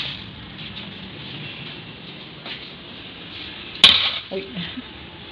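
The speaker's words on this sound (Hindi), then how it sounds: "इसमें मैंने 2 चम्मच नमक ऐड करके कुकर को बंद कर दिया" A sharp metallic clank stands out against quiet room noise as a pressure cooker lid is closed, followed by a few softer rattles as the lid is set and fitted.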